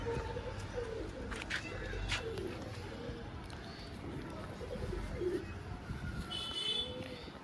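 Domestic flying pigeons, a red Laldama hen and a reddish Jiriya cock, coo in soft, repeated low throaty phrases close by, against a busy background with a voice talking over them.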